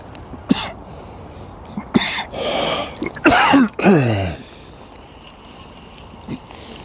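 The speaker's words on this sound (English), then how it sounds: "if there's any coughing in this video like now, I apologise, guys" A man with a chesty cough outdoors at Farlows Lake on an autumn fishing trip coughs and clears his throat several times in quick succession, close to the microphone, with light wind in the background.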